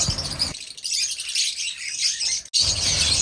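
Red and normal lovebirds kept together for sale chirp in a busy, continuous twitter of high, close-up calls, with no talking.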